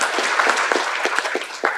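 An audience at a banking regulation seminar inauguration applauds, a dense patter of many hands clapping continuously at moderate distance, with a few sharper individual claps standing out.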